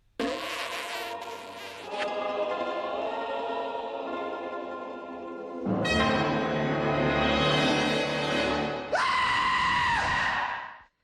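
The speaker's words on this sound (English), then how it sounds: "Ren gives one of his greatest screams as he wakes up from his dream turned nightmare" Ren, the cartoon chihuahua from Ren and Stimpy, lets out a long, shrill, wavering scream on waking from a nightmare, sustained and loud, breaking into rising shrieks.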